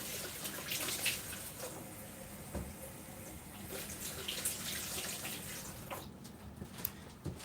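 Tap water runs into a sink while items are washed, a soft continuous splashing with small clinks and drips, fairly quiet and close.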